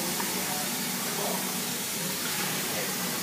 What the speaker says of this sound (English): Let me spray you with the hood.